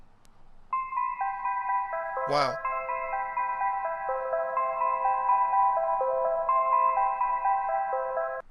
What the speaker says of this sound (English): search for like a nice loop that we can use to make an Amapiano beat